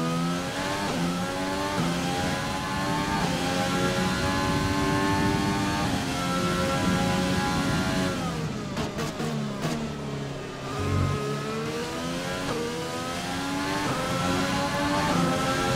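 Renault Formula 1 engine in the F1 2020 racing game, a continuous high-pitched whine that rises and falls as the car accelerates, shifts and brakes through corners, steady and loud with no talk.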